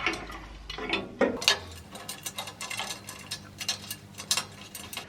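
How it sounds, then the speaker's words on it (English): Bolts with washers and spring washers being fitted to a Clarke CML3 foot-pedal motorbike lift using a 14mm spanner, giving a run of close metallic ratchet-like clicks and clanks in an irregular rhythm with no talk. "two washers, spring washers and bolts, using a 14mm spanner"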